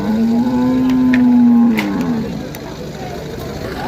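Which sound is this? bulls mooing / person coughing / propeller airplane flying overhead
bulls mooing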